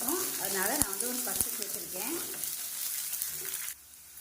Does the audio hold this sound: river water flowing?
no